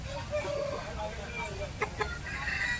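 A red hen at a rural Bengali poultry market, giving a few short clucks over a murmur of nearby voices and market bustle.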